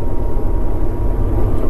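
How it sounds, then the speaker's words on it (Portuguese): A camera drone flies just after launch over a frozen lake, giving a loud, steady, close-up motor and propeller drone with no talking. "esse lago à direita é onde eu soltei o drone aqui. Acabei de soltar o drone."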